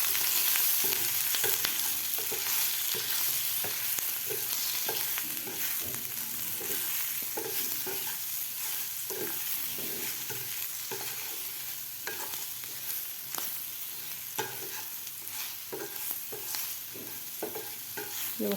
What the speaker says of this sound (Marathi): आता याला परत एकदा व्यवस्थित मिक्स करून घ्यायचं आपल्याला.